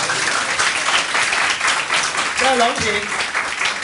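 An audience at a self-introduction meetup breaks into steady, sustained clapping, with a brief voice speaking over it near the end.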